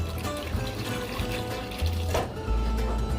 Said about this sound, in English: And then we're going to add just about a half a cup of water.